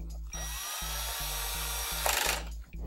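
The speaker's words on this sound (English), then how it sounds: "And we can just put in our two screws." A power drill or driver runs steadily, driving screws into a DLP TV ballast board, a close, continuous whine with a few brief pauses and a harsher burst near the end.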